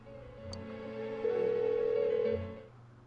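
A phone ringing unanswered in the Persona 4 Golden video game, a steady electronic ring tone that swells and holds for about a second before fading, with no talk.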